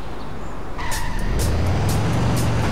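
Cartoon car in The Simpsons: Hit & Run driving hard with a steady engine drone, punctuated by several short skid squeals and a rising engine tone, all close and loud with no talking.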